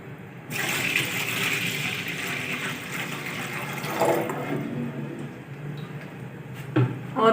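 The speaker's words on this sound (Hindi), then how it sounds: "और 1 लीटर पानी डाल देंगे।" A litre of water pours steadily into a pot holding 250 grams of rice on a stove, a continuous splashing gush that runs for several seconds and then stops, with a brief clatter near the end.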